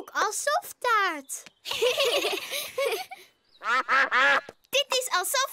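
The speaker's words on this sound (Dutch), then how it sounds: "Oh, kijk, eendjes. Die komen altijd als we hier picknicken." Cartoon ducks quack in quick, bright bursts during a picnic scene, several close calls in clusters, alternating with a voice talking and giggling.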